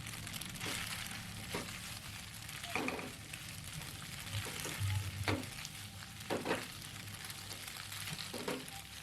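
A macaroni mixture is stirred in a Teflon pan with a soft frying sizzle underneath and several distinct scraping strokes of the utensil against the pan, fairly quiet and close, with no talking.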